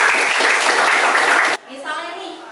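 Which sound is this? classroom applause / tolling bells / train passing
classroom applause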